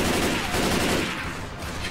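Rapid gunfire from Left 4 Dead 2, a dense, loud, continuous burst of shots filling the whole stretch with no pause.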